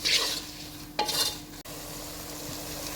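Lemon pieces with salt are stirred and sautéed in a pan for lemon pickle, with a brief hiss and scrape near the start, a quick clatter, and then a quiet, steady low hum.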